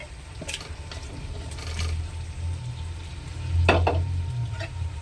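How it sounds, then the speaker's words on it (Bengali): Cauliflower and potato khichuri being stirred in a pot, with a soft bubbling sizzle under a few sharp scrapes and knocks of a spoon against the pot, close by and without speech. "এখন সবগুলো উপকরণ ভালোভাবে মিশিয়ে নিতে হবে"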